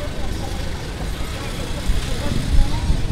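Congested road traffic with cars and motorbikes, a continuous rumble of engines and passing vehicles, steady and fairly loud, with a voice talking over it.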